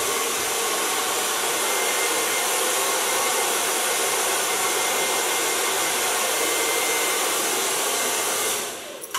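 A hair dryer blows a loud, steady, even whoosh as it dries hair at a salon after a rinse, running continuously with no voices before cutting off at the very end.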